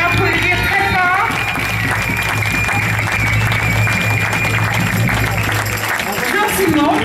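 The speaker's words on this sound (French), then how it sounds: "On va l'applaudir très fort." An audience at a medieval festival applauds loudly and steadily for the costume manager, a dense wash of clapping with some cheering that stays at full strength throughout, under a speaker addressing the crowd.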